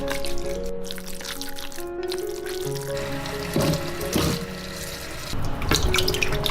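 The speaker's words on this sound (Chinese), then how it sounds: "我们再来洗一些草菇" Straw mushrooms are rinsed under a running tap in a kitchen, with a steady splash of water and some handling noises close by.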